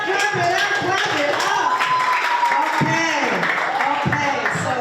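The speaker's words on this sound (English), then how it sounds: "Clap it up, clap it up" A crowd at a Newark Literacy Coalition event claps hands, with a burst of clapping running under a loud voice that keeps talking over the noise the whole time.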